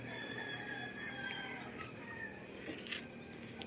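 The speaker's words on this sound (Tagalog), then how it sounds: "Yung mga manok nyo." Chickens clucking with a rooster crowing outdoors, fairly faint against a steady background hum, with scattered short calls across a few seconds.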